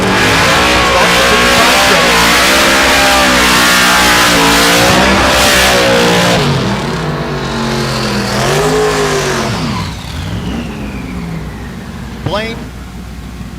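Drag race car at Thunder Valley in Noble, Oklahoma, loud and close, engine roaring through shifting revs, then pitch sweeping as it pulls away, fading under background noise.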